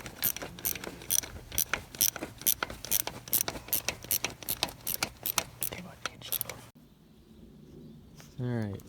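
A socket ratchet clicks in quick, steady bursts while tightening a starter bolt on a John Deere 4020 tractor, close and crisp, then stops, and a voice speaks briefly at the end.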